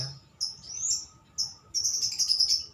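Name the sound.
caged songbirds chirping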